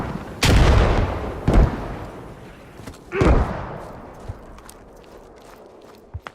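A grenade going off: a few deep, heavy blasts and thuds, loud and fairly near, spaced a second or two apart, with quieter scattered knocks between them.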